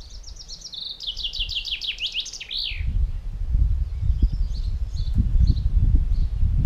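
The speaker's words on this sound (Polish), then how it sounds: "To jest zięba." A chaffinch delivers a clear, fairly close song, a quick descending run of chirps that finishes in a flourish. The song then gives way to low, steady rumbling and knocking from tractor work nearby.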